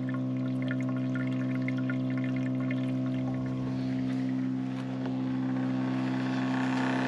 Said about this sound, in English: Now, I think this pump is a 7 litres per minute pump.